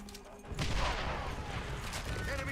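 A rolling artillery barrage in World at War multiplayer: a sudden heavy blast followed by sustained rumbling booms, loud and dense for about two seconds, with faint voices beneath.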